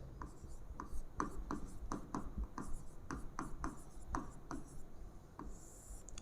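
Chalk or marker writing on a classroom board, a series of quick rhythmic taps and short scratchy strokes, close and moderately loud with faint room noise behind.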